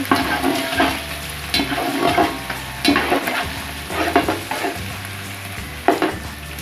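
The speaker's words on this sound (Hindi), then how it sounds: "अब हम इसमें लहसुन और अदरक का पेस्ट शामिल कर देंगे और इसको 2-3 मिनट के लिए भून लेंगे।" Garlic and ginger paste sizzles and fries in a hot pan while a spoon stirs it with repeated scraping strokes, close and busy.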